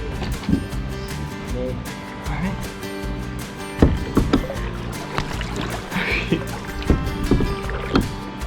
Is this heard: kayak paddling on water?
yes